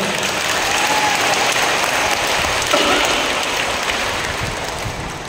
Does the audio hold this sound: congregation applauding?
yes